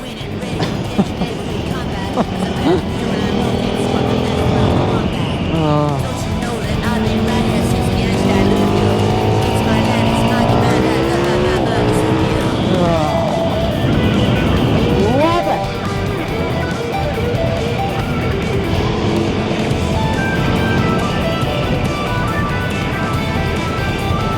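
A KTM Super Duke 1390 R Evo motorcycle engine accelerating on its low power setting, rising and falling through the gears with loud, sustained roaring revs and wind rush, while a rider's voice talks over it.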